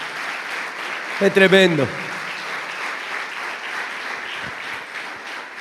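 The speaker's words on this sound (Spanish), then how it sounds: "Dale un aplauso al Señor." A church congregation at a conference plenary session claps in a steady wash of applause, with a brief loud voiced shout near the start.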